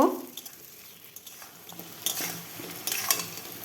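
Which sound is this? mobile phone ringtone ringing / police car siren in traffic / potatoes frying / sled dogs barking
potatoes frying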